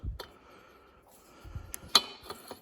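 A new nut is spun onto the threaded front hub of a Ford/New Holland tractor, giving a few faint metallic clicks and ratcheting ticks, close and quiet, with no talking.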